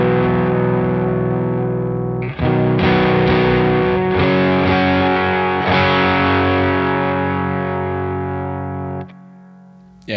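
An electric guitar runs through a Jam Pedals overdrive with fluffy breakup, sustained chords ringing out with a gritty, saturated edge, restruck once partway and left to decay before a final pick attack; no talking.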